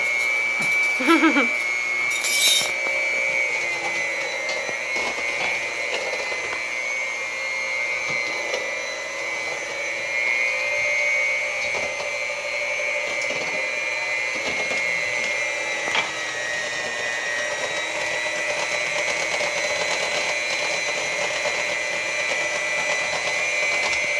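An electric stand mixer whirs steadily while beating an egg yolk mixture into homemade cinnamon roll dough, a continuous motor drone with a high whine holding level throughout, heard alone without talk.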